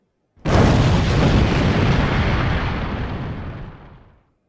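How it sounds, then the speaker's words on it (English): A fireworks sound effect in a stage play: one sudden loud boom that rolls into a long, noisy rumble and decays over about four seconds, with no talk. "Zap, zap, more fireworks."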